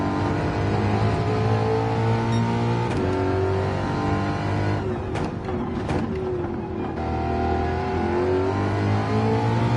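A race car engine revs hard under throttle in a racing video game, the steady harmonic drone rising and falling with brief dips where the pedal lifts, loud and continuous throughout with no talk.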